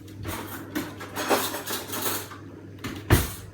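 A spoon clatters and scrapes in a bowl as olive oil is stirred into a bread dough mixture, with several irregular knocks and one sharp clink near the end, fairly close and without talk.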